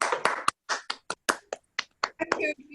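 Online participants in a virtual bagel and challah baking class unmute and clap, giving a string of separate, uneven claps with short gaps, some close and sharp, others softer and overlapping.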